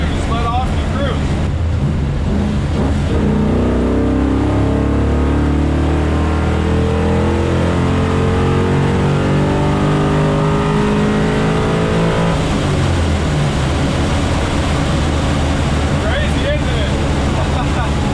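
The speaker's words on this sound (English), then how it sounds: "You can just push on the throttle and you can just go." A Chevy Nova's V8 engine drones loudly from inside the car, its pitch rising and falling as the throttle is pushed and eased, with a voice talking over it.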